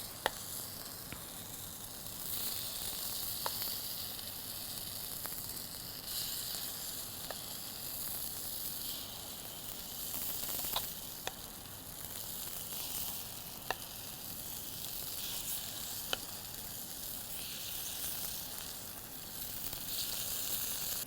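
Bajra paniyaram batter sizzling steadily in a hot paniyaram pan, a continuous bright hiss with occasional faint clicks and taps, close and even, no talking.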